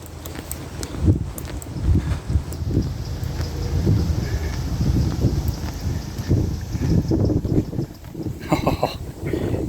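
Gusting wind buffets the microphone in low rumbling surges at a canal lock, with faint background movement and clatter outdoors.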